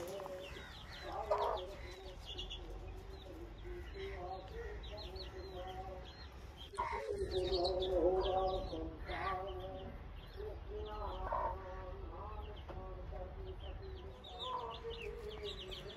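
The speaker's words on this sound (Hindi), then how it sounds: "ये अपनी अंडे देने वाली ब्रूडिंग मुर्गी।" A brooding, egg-laying hen gives runs of low, repeated clucks nearby, with other birds chirping and a brief rustle in the background.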